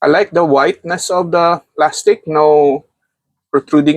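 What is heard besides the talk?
No everyday noises stand out.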